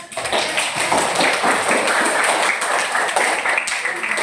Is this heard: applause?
yes